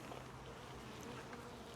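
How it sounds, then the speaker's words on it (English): Honeybees buzz close around a beekeeper at the hives, a faint but constant droning hum with individual bees whining past, with no talking. "the guard bees from the other hives are all over me"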